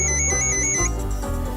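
A mobile phone ringtone plays indoors in the morning, a bright repeating electronic melody sounding steadily for the whole moment with no talk over it.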